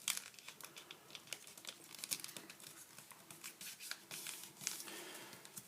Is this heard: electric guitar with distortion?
no